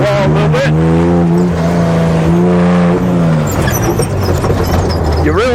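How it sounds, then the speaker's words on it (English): A Subaru Baja brakes hard on a race track, its engine loud and steady with harmonic drone falling in pitch as it slows, then rough road and tire noise, close and continuous throughout. "You really got to hit the brakes"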